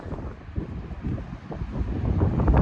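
Strong wind buffeting the microphone, a loud low rumble that gusts and builds toward the end, no voices.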